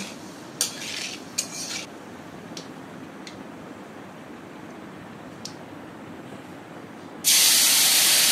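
Turmeric and chili powder mixed with water hits hot oil with nigella seeds and bursts into a loud, sudden hiss near the end, after a quiet low simmer and a few light utensil clinks.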